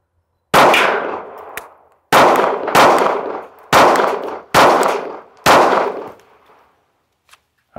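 Six loud, close gunshots from a Sig Sauer P365 pistol at an outdoor range fired with aluminum-cased ammunition, spaced roughly a second apart, each with a sharp crack and a short ringing tail, no talk.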